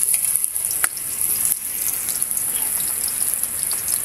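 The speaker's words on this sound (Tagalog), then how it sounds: "Nagisa na tayo ng bawang." Garlic and onion sauté in hot oil in a pan, a steady, loud, close sizzle and crackle that holds throughout, with a couple of faint utensil taps and no voices.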